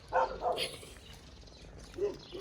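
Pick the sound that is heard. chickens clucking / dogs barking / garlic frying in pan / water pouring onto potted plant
dogs barking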